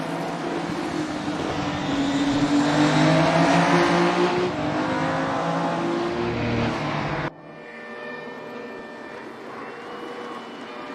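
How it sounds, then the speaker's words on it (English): Race car engine in a sim racing game roaring loud and close as it drifts through a corner, engine note sweeping with a hint of tire squeal, then dropping abruptly to a quieter, steadier drone. "Nice drift there by Stu through the corner."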